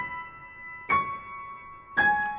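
Piano notes struck in slow, bell-like pairs ring out and sustain, imitating the chime of church bells, three strikes with long resonant decays.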